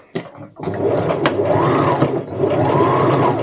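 A sewing machine stitches a backstitch along the top of a tote bag, running in a steady, loud mechanical whir that starts after a brief clack and pauses briefly midway before continuing close up.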